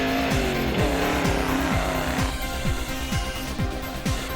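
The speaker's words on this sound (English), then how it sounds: "Gustav Aspelang and Dries van der Berg taking their Renault out onto the track and making a little off-road vehicle out of that." A Renault converted into an off-road race car drives on an African off-road racing track, its engine loud and close, revving up and down in repeated gear shifts with a rough, gritty roar.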